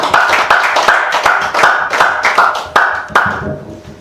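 An audience claps steadily to welcome a guest lecturer at a Korean talk, a dense close burst of many hands that holds level for several seconds, then thins and fades near the end.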